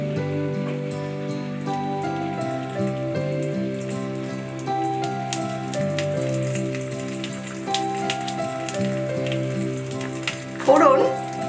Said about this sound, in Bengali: এবার আমি ওই তেলে সর্ষে ফোড়ন দিলাম, একটু অপেক্ষা করব ফোড়ন হওয়া পর্যন্ত।